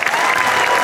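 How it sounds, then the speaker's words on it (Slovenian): Brief burst of dense audience applause at an award ceremony during a festival in Vurberk, loud and close, with crowd murmur. "En aplavz zanje, prosim."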